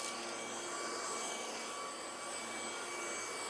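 A Greenote GSC50 cordless stick vacuum cleaner runs on its second power setting over a carpet, giving a steady, loud, close whine and rush of air that holds constant throughout.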